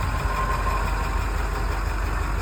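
A City of Chicago tow truck wrecker's engine idles at close range, giving off a steady, unbroken low rumble with a faint mechanical whine above it and no voices.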